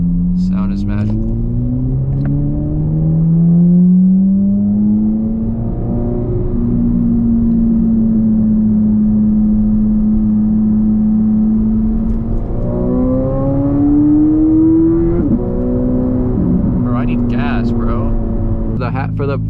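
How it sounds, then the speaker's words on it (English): A purple Chevrolet Corvette C8 Z06 engine rising and holding a smooth, loud drone while underway, with pitch climbing, settling and climbing again, close and sustained throughout. "it almost sounds like a V10"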